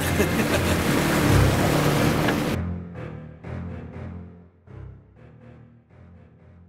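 A loud, steady boat motor on a lake roars with wind and water noise, then cuts off abruptly, leaving quieter splashing and knocking sounds.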